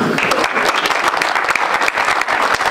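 An awards ceremony audience applauds loudly and close, a thick, continuous patter of many hands clapping with no pauses.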